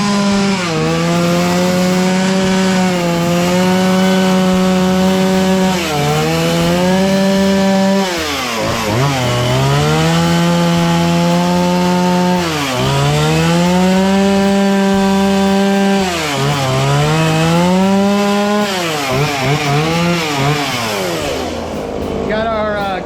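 A chainsaw carves a wood spirit face into wood, its engine droning loud and close, revving up and down in repeated surges as the bar cuts and shaves.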